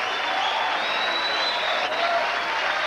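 A tennis crowd bursts into steady, dense applause after a volley, a continuous wash of clapping filling the stadium without pause.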